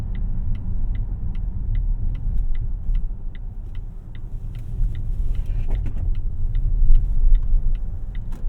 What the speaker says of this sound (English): It is nice to have that instant torque and instant acceleration from those electric motors.